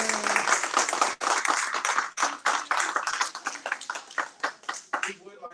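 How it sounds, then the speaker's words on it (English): A small audience at a media school talk applauds the speaker in sparse, uneven claps that come in bursts and taper off, with voices mixed in. "let's give Mr. Naya a round of applause"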